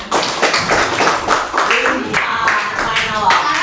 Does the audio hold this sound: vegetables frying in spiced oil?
no